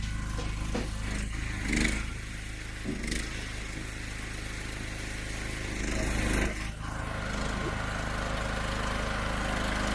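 A chainsaw engine runs steadily with a buzzing drone, rising briefly in a couple of revs, with faint clatter around it.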